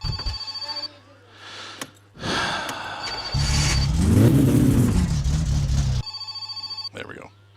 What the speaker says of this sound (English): park this car right. We need to move up a little bit.